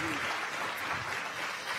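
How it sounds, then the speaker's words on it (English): An audience at a UN youth climate summit gives a round of applause, a steady, even wash of clapping from many hands that holds at moderate loudness throughout. "give a round of applause to you all for your thoughtful questions"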